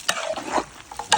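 Chicken being stirred in a pan during village-style dry chicken cooking, a short scraping stir over a soft frying sizzle with a couple of sharper utensil knocks, close and alone.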